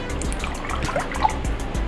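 Whole milk poured from a jug into a measuring cup for a bloomin' onion batter, a steady soft trickle of liquid running close by for a couple of seconds with no talking.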